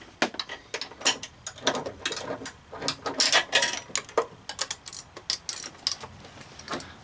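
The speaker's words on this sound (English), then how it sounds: "Got one of my gear wrenches in there." Rapid ratcheting clicks from a gear wrench loosening an engine mounting bolt on a 2003 Honda Civic during head gasket work, coming in close, irregular bursts with no talking.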